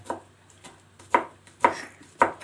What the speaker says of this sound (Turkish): İnce ince doğrayacağız